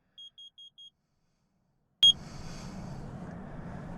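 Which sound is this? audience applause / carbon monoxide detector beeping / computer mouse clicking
carbon monoxide detector beeping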